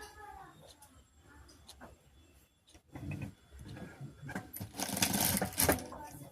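A sewing machine stitches a press-button strip for an embroidered blouse, a motor whirring in bursts that build to a loud, dense run near the end, with faint talk at the start.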